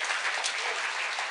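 A church congregation at GBI ICON bursts into brief, steady applause, a dense wash of many hands clapping at once with no talking over it.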